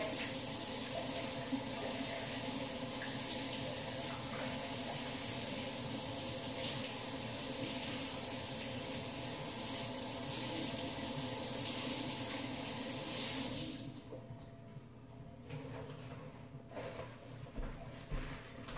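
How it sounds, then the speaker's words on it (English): A kitchen tap runs steadily as a microwavable bowl is rinsed under it. The stream gushes continuously for about fourteen seconds, then stops, leaving a few faint clinks and drips. "We're gonna take our microwavable bowl again. I'm gonna rinse this out"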